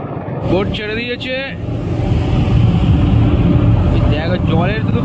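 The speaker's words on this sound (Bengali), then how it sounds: "বোট ছেড়ে দিয়েছে।" A ferry boat's engine drones loudly and steadily as it pulls away across the Ganges, with voices briefly heard near the start and again toward the end.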